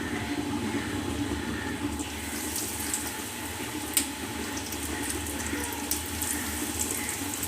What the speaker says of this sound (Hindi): अब मैं इसे फ्राई करूँगा।